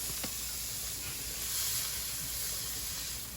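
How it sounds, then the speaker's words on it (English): Onion sizzling in olive oil and butter in a skillet, a soft continuous hiss and crackle heard close and alone, with no talking. "I add olive oil and butter to a skillet, and then the onion."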